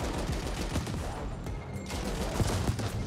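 Sniper turrets fire in the sci-fi action game The Ascent: a dense, steady barrage of overlapping shots and blasts that keeps up loudly without pause for the whole stretch.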